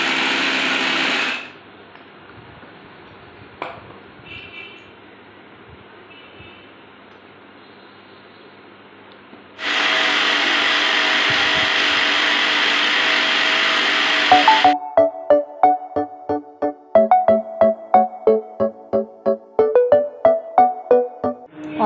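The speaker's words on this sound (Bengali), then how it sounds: "অনেকক্ষণ ধরে মশলা ব্লেন্ড করলাম, এটা হলো গরম মশলা" An electric blender grinds garam masala spices at home in loud whirring bursts, a long stretch of quieter pause between them, ending with a series of short rattling pulses.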